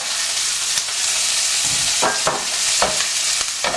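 Onion, chorizo and paprika frying in olive oil for a Valencian paella give off a steady loud sizzle, with a few stirring scrapes of the pan breaking through.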